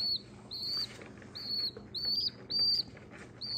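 A hungry baby bird gives repeated thin, high chirps in short bursts, about six calls, close and fairly clear over a low background hum with no talking.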